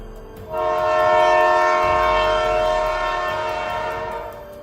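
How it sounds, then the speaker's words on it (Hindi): Cartoon train running toward a station: a loud sustained chord-like horn blast rising over a low rumbling rail clatter, holding for several seconds before easing slightly. "इस रफ्तार से ट्रेन चलते चलते आखिर में स्टेशन पे पहुंच चुकी है"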